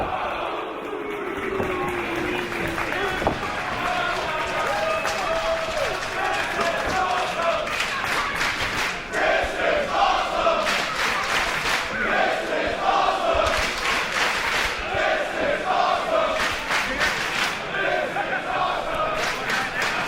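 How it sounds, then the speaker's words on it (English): Wrestling crowd in Dallas at a match with Drew Galloway and Johnny Gargano against Anthony Nese and Caleb, roaring and cheering loudly throughout, with thuds from the ring and commentary talk over it. "this Dallas crowd is on fire here"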